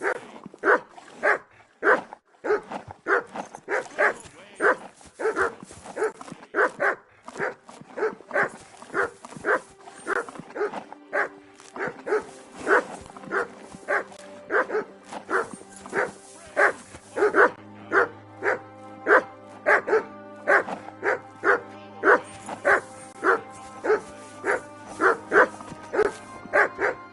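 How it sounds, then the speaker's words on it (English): A dog in Kingdom Come Deliverance II barks loudly and repeatedly in a steady, rhythmic run of sharp woofs, close and insistent, continuing for many seconds while a low musical drone rises beneath the later barks. "Henry, call that dog to heel."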